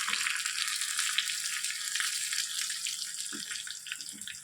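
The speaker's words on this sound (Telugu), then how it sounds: "పోపు మంచి స్మెల్ వస్తుంది బాగా వేగింది కదా" Tempering spices and curry leaves sizzle and crackle steadily in oil at close range, a bright continuous fizz with a few soft clinks of a utensil.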